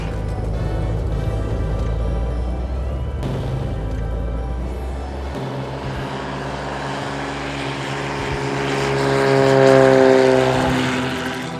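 Steady droning propeller engine hum with a buzzing, throbbing tone, rising slightly in pitch and loudness before settling, heard from inside or near a small plane flying to Sungkung, Bengkayang, Indonesia.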